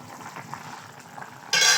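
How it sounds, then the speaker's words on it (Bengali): Rui fish curry broth with vegetables (data and potato) coming to a boil in a pan, a soft bubbling simmer that ends in a sudden loud sizzle near the finish. "ঝোলটা বলক উঠে এসেছে"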